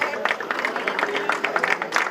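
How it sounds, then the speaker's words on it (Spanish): Applause from the crowd at an open-water swimming race award ceremony on Gando Bay, dense scattered clapping sustained steadily throughout, moderately near, with no clear voices over it. "Fuerte aplauso"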